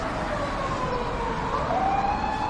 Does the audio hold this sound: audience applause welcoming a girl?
no